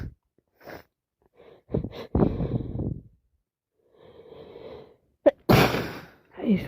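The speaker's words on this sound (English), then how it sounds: "I've had enough of sneezing." Several sneezes and snorting breaths from a person with a head cold, loud and close, with sharp bursts and a final forceful sneeze separated by quiet gaps and wheezy inhales.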